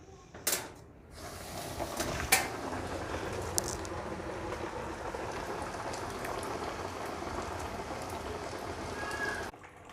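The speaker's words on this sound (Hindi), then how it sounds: "अब मैं इसमें चिकन फ्राई कर लूँगी।" Chicken pieces go into hot oil for a crispy burger and fry with a dense, bubbling sizzle that runs steadily, opening with a few sharp clatters and a sudden rush as the meat drops in.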